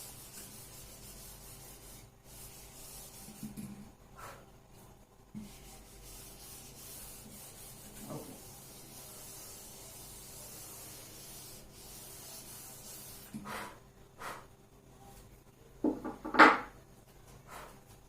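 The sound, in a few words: eraser rubbing board during a maths lesson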